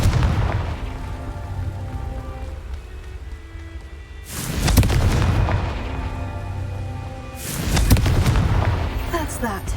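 A Confringo spell goes off in a magic-themed video game, heard as two heavy, loud blasts a few seconds apart, each one a booming burst that rumbles and decays, set over a continuous game soundscape.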